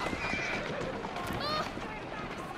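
A horse in Assassin's Creed Syndicate whinnies partway through amid busy game noise and hoofbeats, with a voice talking over much of it.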